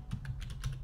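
A short burst of typing on a computer keyboard, five or six quick soft key clicks in an uneven rhythm, close and fairly quiet with no voices.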